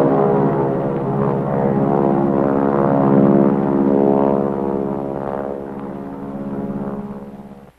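Propeller airplane used for mosquito control spraying drones steadily overhead, a loud, even engine hum with layered harmonics that swells slightly midway and fades a little toward the end, with no voices.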